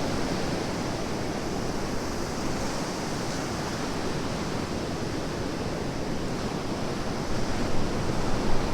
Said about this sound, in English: Some of these waves are pretty big.